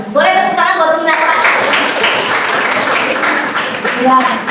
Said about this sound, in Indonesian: Boleh tepuk tangan buat Kinara.